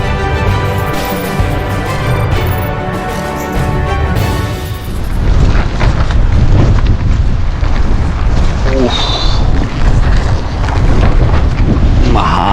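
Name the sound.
strong wind on microphone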